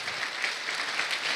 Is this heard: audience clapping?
yes